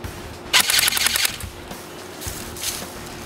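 Upgraded A&K SPR-L airsoft electric rifle firing a fast rapid burst of about a second, close and sharp, followed by a couple of fainter clicks.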